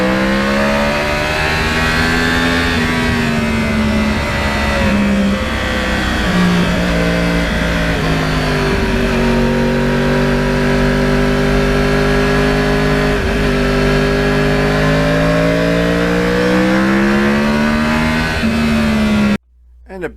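A Yamaha R1 crossplane sport bike ridden on back roads, its engine loud and close with rising and falling revs through gear changes, sustained for about twenty seconds before cutting off abruptly.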